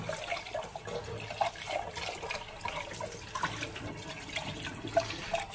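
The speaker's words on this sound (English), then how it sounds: "I'm just gonna come over here and dump this down in the drain board." Wet Turkish coffee grounds poured from a pot onto a kitchen drain board in Sarajevo, Bosnia, giving a continuous splashy, gurgling wash of liquid close by with soft knocks of the pot.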